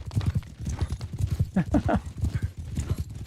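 Horse hooves pound in a rapid, rhythmic gallop in Mount & Blade II: Bannerlord, close and steady, with brief bursts of game sound over the running beat.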